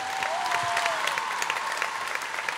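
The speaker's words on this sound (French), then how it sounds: "Et ça s'applaudit, s'il vous plaît, mesdames et messieurs." Audience applause at the Kids Voice Tour 2019 final in Montreux's Stravinski hall, a dense steady clapping from a large crowd filling the room, with a faint sustained tone running beneath it.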